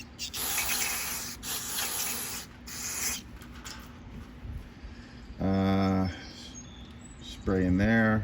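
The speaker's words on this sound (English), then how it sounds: "we're gonna spray all in this carburetor to clean it out" Aerosol carburetor cleaner sprayed into the carburetor and air bleeds of a 2017 Yard-machine 20-inch lawn mower, a close hissing burst repeated several times, followed by louder mechanical buzzing sounds.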